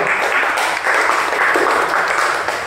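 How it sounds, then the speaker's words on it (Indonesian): Classroom applause for a group of students, a burst of many hands clapping at once, loud and close, sustained for a few seconds. "berikan tepuk tangan untuk kelompok 2"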